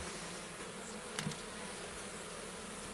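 Honeybees at a hive buzzing in agitation, a steady dense drone filling the whole clip with one brief louder burst near the middle, no voices.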